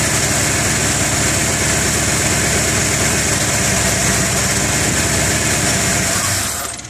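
A car engine with its fuel pressure regulator vacuum line plugged idles steadily and loudly up close with a low rumble, then abruptly cuts out and dies near the end.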